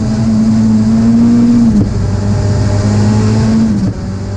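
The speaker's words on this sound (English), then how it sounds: "Chris Hay, the world's fastest Toyota MR2" A rear-engined Toyota MR2 rally car, Chris Hay's two-wheel-drive record holder at Ashley Forest, drives past loud and close. Its sustained engine howl breaks twice at gear changes.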